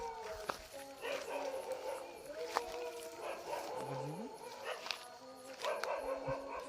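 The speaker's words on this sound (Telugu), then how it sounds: "ఈ కుక్కలు మనల్ని చూసి అరుస్తున్నాయా" Dogs bark at night from some distance, with a few sharp yelps and calls spread across a steady background hum while someone speaks.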